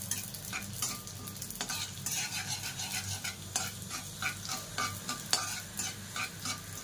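Poppy seeds roasting in a pan over a low flame for a Ganpati prasad, a soft continuous sizzle with rhythmic close scraping and stirring strokes, steady and fairly quiet throughout.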